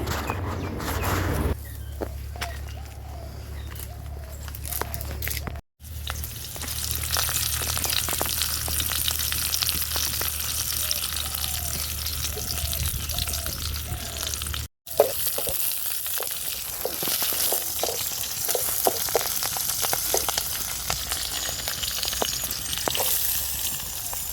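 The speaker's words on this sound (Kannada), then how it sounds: "ನಾನು ಕರಿಬೇವನ್ನ ಕಿತ್ಕೊಂಡು ಒಗ್ಗರಣೆಗೆ ಹಾಕ್ತಾಯಿದ್ದೀನಿ." Steady oil sizzling and crackling continues for a long stretch, with brief pauses, faint chicken clucks, and a soft voice in the background.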